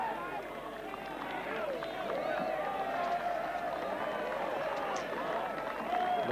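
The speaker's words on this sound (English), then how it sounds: "they're going crazy around the green here" A golf crowd around the green at the 2001 Australian Open final round cheers and applauds in a continuous, fairly distant roar, with voices mixed in throughout.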